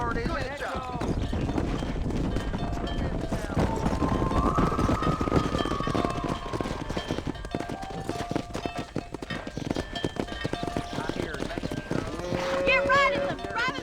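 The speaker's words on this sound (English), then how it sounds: "Herd the cows down the road." Horses clip-clop at a steady trot while cattle are herded down a road in the video game Red Dead Redemption. The loud hoofbeats carry on throughout, with game sounds and other noises layered over them.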